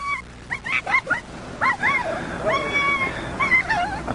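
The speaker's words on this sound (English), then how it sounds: "She's a really sweet dog." A sweet-tempered adult female dog that has had several litters gives a string of close, high whimpers and yelps, some short and some drawn out, with faint background noise beneath.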